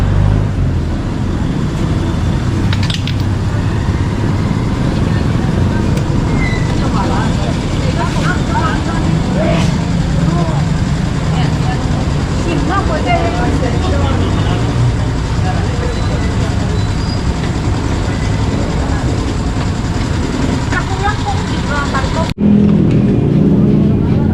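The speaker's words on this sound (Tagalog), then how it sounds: "Traffic eh, oh." Steady road traffic noise in the Philippines, a continuous loud rumble of passing cars and buses close by, with voices mixed into the din before it cuts off abruptly near the end.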